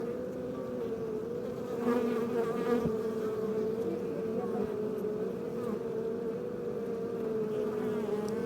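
Honeybees from a full, open hive hum in a dense, steady drone close by, continuous and even throughout with no pauses.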